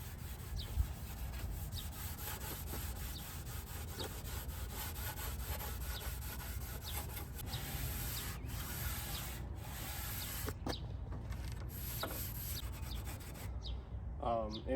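A Scotch-Brite pad scuffs a car dash panel with steady, light back-and-forth rubbing, a continuous close scratchy hiss with small bumps and brief pauses near the end.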